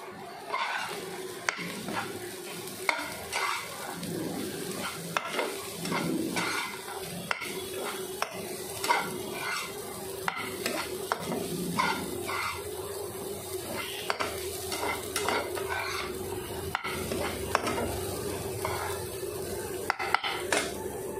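Pointed gourd frying in a pan and being stirred with a utensil, steady sizzle beneath repeated scraping and clinking of metal against the pan, close and fairly quiet, with no talking.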